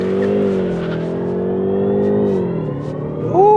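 A BMW 530e plug-in hybrid launches hard under launch control. Its engine drones loudly and close by with a strong steady tone, which dips and changes pitch near the end as the revs shift.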